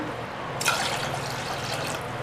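Water poured into a pot of soaked moong dal, a steady splashing pour starting abruptly and running on evenly, close by with no voices.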